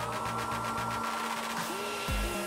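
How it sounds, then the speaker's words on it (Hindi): A hair dryer blowing on wet socks, a continuous close whirring hum with tonal whine that shifts pitch near the end. "उसका ड्रायर उसकी मदद कर सकता है। इसे सुखाना शुरू करो।"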